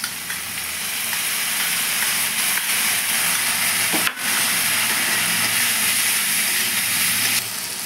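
Ginger, garlic and chilli paste with tomato frying in a pan, giving a loud, steady hissing sizzle throughout with a brief clatter midway.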